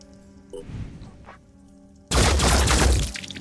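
A cannon shot in the tactical video game Phoenix Point, with a brief charge-up followed by a sudden loud blast and impact that rings on for about a second before fading.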